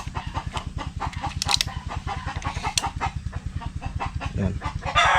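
Close chicken clucking and soft rooster-like calls over a rapid, steady low thumping rhythm; busy, continuous and fairly loud, no speech.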